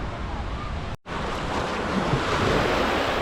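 Loud, continuous sea surf roars close by on a beach in Spain, broken by a brief dropout, with wind buffeting the microphone.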